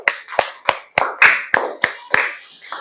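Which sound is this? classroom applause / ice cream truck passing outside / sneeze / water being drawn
classroom applause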